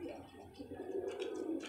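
Pigeons kept as pets cooing softly in a short, faint, low murmuring coo, somewhat distant, with faint background noise.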